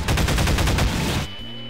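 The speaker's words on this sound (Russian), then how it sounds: "Давайте вот эти пушки не использовать, вы убиваете всех!" Rapid bursts of automatic gunfire from weapons in the Garry's Mod video game, loud and dense for about a second before cutting off into a quieter electronic hum.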